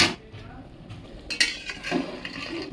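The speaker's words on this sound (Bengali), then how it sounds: "এইবারে হালকা হাতে একটু মিশিয়ে নিতে হবে মাঝে মাঝে" A spoon stirs vegetarian khichuri in a pot over medium heat, producing close metallic scrapes and clinks against the pot in an irregular rhythm, with a faint background sizzle.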